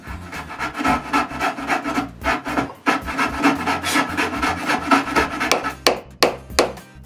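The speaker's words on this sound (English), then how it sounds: "I finished the cuts with a coping saw." Coping saw finishing cuts in wood for a wooden jointer, a fast, rhythmic series of rasping back-and-forth strokes, close and fairly loud, with no talk.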